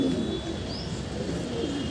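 Pigeons in a home loft and coop boxes coo in a soft, steady low murmur over continuous background noise, with no clear separate calls standing out.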